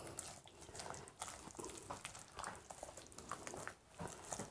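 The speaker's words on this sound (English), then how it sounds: "I'm dumping all the rest of the water in" Water is poured into a dry parched corn meal batter of flour, eggs and starter. The liquid splashes and gurgles in irregular bursts, close by and fairly quiet, with no talking.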